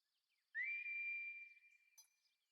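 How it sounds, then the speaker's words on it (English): In the video game Final Fantasy VII Ever Crisis, a single clear whistle rises briefly then holds a steady pitch for about a second before fading, with a faint click near the end; otherwise quiet. "You all heard the whistle."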